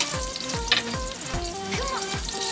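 Sotanghon guisado ingredients sauté in a hot pan, sizzling steadily while a utensil scrapes and stirs in a regular rhythm, close and fairly loud with no voices.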